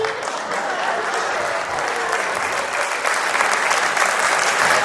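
A dense, loud wash of audience clapping at a stand-up comedy show carries on steadily without a break, swelling slightly toward the end.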